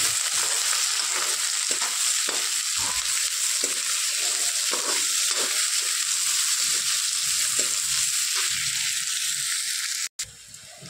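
Onions fry in a pan with a steady, loud sizzle, and a spoon scrapes and stirs them in irregular strokes. The sizzle runs unbroken until a brief dropout near the end.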